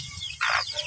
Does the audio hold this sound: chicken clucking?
yes